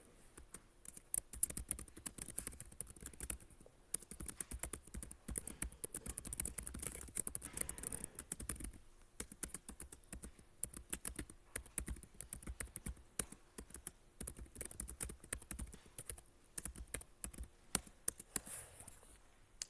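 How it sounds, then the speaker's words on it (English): Quiet, steady typing on a computer keyboard, with irregular rapid key taps and small pauses, recorded close in a lecture setting, with no talk heard. "my computer right now has to deal with me typing on this thing"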